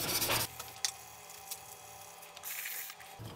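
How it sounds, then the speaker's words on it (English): Steel wool scrubs soot off a metal rocket stove in short, raspy rubbing strokes, quiet and close, with a louder burst of scraping at the start and another near the end. "So I'm gonna try this steel wool on this section."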